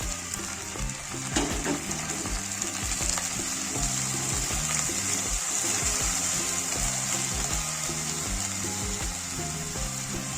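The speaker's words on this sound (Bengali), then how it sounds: "এবার আদা রসুন বাটা দেব অল্প একটু জল দেবো" Ginger-garlic paste and a splash of water hit a hot pan for a green banana curry, giving a steady loud sizzle and spitting hiss with faint stirring and clinks underneath.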